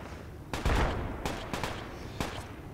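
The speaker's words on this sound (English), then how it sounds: "Gotta toss smoke toward that enemy gunfire, just toward it." Video game enemy gunfire in sharp bursts, a loud volley early on followed by scattered shots and another burst near the end, close and punchy with no talk over it.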